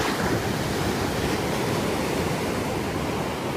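Ocean waves surge and crash against old piers at a Santa Barbara beach, a steady, loud wash of surf with wind roaring across the microphone and no pause throughout.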